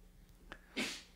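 A single human sneeze during an Arabic religious lecture, a short sharp nasal intake followed by a forceful burst, heard close over a faint room hum.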